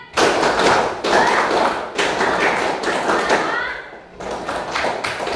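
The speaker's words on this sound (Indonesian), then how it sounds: "Kita tepuk semangat dulu untuk mengawali pembelajaran." An Indonesian school class performs a rhythmic spirit clap, several bursts of many hands clapping together in quick patterned sequences with brief pauses between, loud and close in a classroom.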